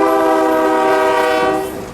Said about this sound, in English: and shoves the train into the spur.